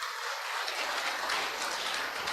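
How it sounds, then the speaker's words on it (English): Audience applause at a student event, dense steady clapping from a crowd filling the whole moment at even loudness. "Give a big clap for you"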